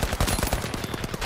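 Rapid automatic gunfire from a low-recoil gun in a shooter video game, a fast even stream of close, loud shots with no pauses.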